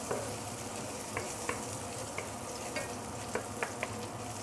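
Garlic and ginger fry in very hot oil with a constant soft hiss, broken by a few light clicks of a utensil against the pan.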